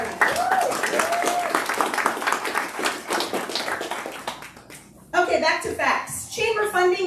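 A roomful of people at a chamber of commerce forum applauds board members with a scattered patter of claps under voices, the clapping thinning out as one person's speech comes through clearly.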